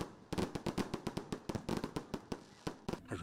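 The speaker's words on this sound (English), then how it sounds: "At around 10 p.m., the fireworks lit the skies as a sign of welcoming the year 2024." Fireworks burst at night to welcome the 2024 New Year, a rapid irregular string of sharp cracking bangs, loud and close, popping in quick clusters with no voices.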